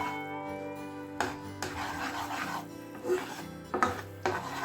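Besan being stirred into sugar syrup in a pan over a low flame while making Mysore pak, a steady scraping and rubbing that swells and fades in strokes, close by, with no talk.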